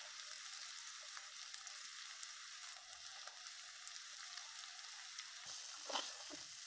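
Pumpkin pieces fry in a pan, giving a steady, soft sizzle and crackle throughout, with one brief louder stir or clatter near the end and no talking.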